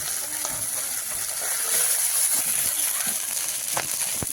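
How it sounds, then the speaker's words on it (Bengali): Small bele fish frying in hot oil in a home kitchen, a steady, close sizzle with soft bubbling and occasional clinks, continuous throughout without talk. "আর এই বেলে মাছটা ভাজা হয়ে গেছে প্রায়"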